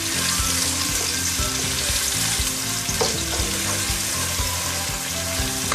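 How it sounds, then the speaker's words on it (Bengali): Onions sizzle loudly in hot oil and ghee as they fry for polao, a steady crackling hiss with scraping stirs, with no talk. "আমি পেঁয়াজ দিয়ে দিচ্ছি"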